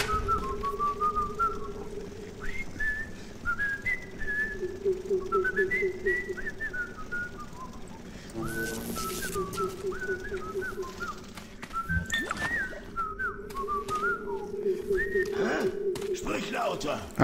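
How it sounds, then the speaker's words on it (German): In BioShock, a character whistles a wandering melody of rising and falling notes several times over a low droning hum, with brief clanks and game effects cutting in. "Wer pfeift denn da so rum?"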